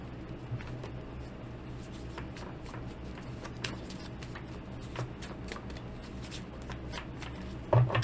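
Tarot cards are shuffled continuously, a soft rapid riffling and flicking that keeps going with no voices, ending in a couple of louder taps.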